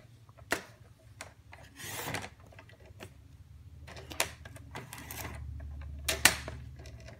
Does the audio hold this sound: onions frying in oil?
no